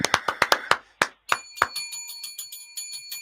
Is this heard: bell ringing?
yes